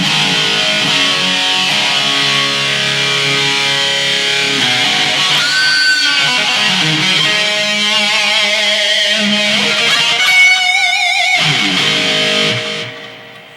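A distorted electric guitar through a BOSS eBand JS-10 with EQ for a bright 1970s-style tone plays a continuous riff with bends and vibrato-wobbled lead notes for about thirteen seconds, then cuts off.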